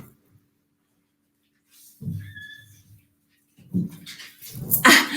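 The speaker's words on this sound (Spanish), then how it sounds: "si no estos perros no nos van a dejar hablar" Dogs at a door let out short yelps and barks, with gaps of silence between them, growing louder and busier toward the end.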